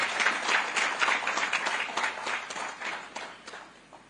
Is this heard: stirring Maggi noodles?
no